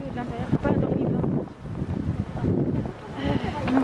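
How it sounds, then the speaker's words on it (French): Gusty wind outdoors in Odaiba, Tokyo, on an overcast day buffets the microphone in loud rushing surges, with a person speaking faintly underneath. "Il y a du vent maintenant."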